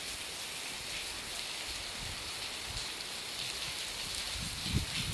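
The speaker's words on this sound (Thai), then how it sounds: "ฝนตก ฝนตก ฝนตกจุ้งเบิงเย็นสดชื่นอีกแล้ว" Steady rain pours down, a dense hiss of drops hitting surfaces with no letup.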